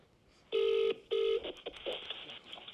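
A phone dials a call: two long, loud, steady keypad tones, followed by a scatter of shorter, quieter beeps and clicks, all close.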